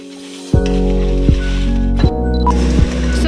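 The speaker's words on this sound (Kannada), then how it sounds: "ಸೊ ಅದೇ ಬಾಣಲಿ ಇಟ್ಟಲ್ಲೇ ನಾವು ಎಲ್ಲ ಮೆಣಸಿನ್ಕಾಯಿಯು ಹಾಕಿ ಉರಿತಾ ಇದ್ದೀವಿ" Dried chillies roasting in a pan for garam masala, a soft steady sizzle broken by four sharp knocks of a utensil stirring against the pan, close and loud.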